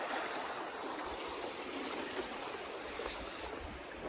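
A creek on the Appalachian Trail near Dragon's Tooth flows with a steady, soft, broadband rushing hiss, continuous and even from start to finish, with no talking.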